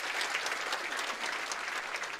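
A church congregation bursts into applause during a sermon, a brief burst of dense clapping filling the room throughout.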